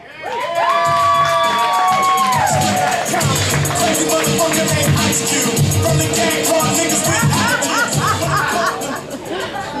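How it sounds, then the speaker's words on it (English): Comedy club audience at an open mic night cheering and whooping loudly, with crowd noise and laughter sustained for nearly ten seconds after a comic is introduced. "Give him a big round of applause, Josh Levesque."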